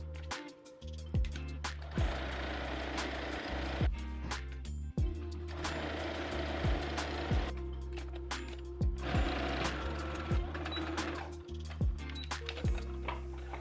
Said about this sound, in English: you're going to go ahead and sew all along the perimeter